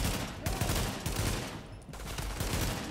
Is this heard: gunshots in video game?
yes